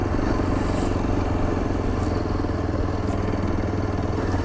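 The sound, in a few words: motorcycle riding on a slushy mountain road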